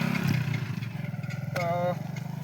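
A motorcycle pulls up and idles nearby with a rapid, even putter throughout, while a voice briefly speaks over it.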